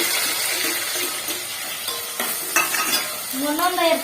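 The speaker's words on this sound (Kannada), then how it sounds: "ಒಗ್ಗರಣೆ ಕೊಡುವಾಗ ಕರಿಬೇವು ಹಾಕತ್ತಾವ" Curry leaves crackle and sizzle in hot tempering oil for a Kannada-style vegetable stir-fry, a steady close hiss with sharp pops and a louder spitting burst near the end, no talking.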